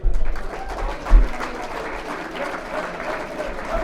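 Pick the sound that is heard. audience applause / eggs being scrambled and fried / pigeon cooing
audience applause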